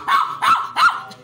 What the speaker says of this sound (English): A cute dog.